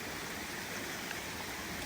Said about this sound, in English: this is a neat little creek right here